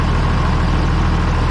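A Minneapolis Moline G955 tractor engine runs smooth and steady, a loud, close, low rumbling drone with an even throb and no change in pace.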